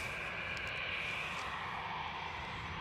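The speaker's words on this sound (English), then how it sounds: "With Embraer 190 coming in" An old KLM Embraer 190 airliner approaches Edinburgh Airport with a steady, broad jet roar that holds evenly throughout, heard from a distance without any talk.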